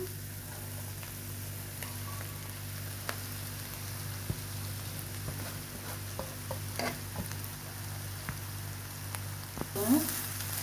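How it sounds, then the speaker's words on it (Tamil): Cooked rice for homemade fried rice is stirred in a pan over a faint, steady sizzle, with occasional light scrapes and taps of a spoon, close but quiet, with no talking. "மெதுவாக இப்படி கிளறி விடுங்க"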